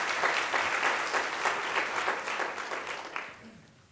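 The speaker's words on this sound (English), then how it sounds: "let's get a little applause in here" Brief, lively applause from a room of attendees at a DaimlerChrysler leadership workshop, clapping steadily for about three seconds and then fading out.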